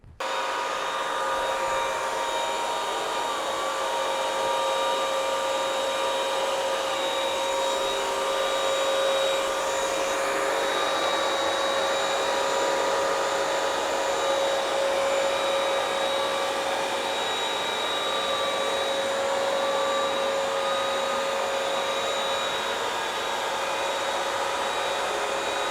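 A Bissell Crosswave floor cleaner runs continuously while scrubbing tile grout, giving a steady, loud motor whine with a fixed tonal hum and no pauses.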